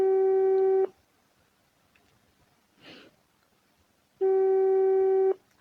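A phone call's ringback tone repeats in two long, steady beeps separated by a pause of near silence with a faint breath-like rustle between them, loud and close.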